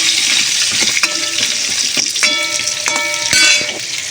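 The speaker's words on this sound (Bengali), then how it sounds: "আলুগুলো একটু লাল লাল করে ভেজে নেব।" Potatoes browning in hot oil with turmeric give off a loud, continuous sizzle, broken by several ringing metal scrapes and clinks of a spatula against the pan.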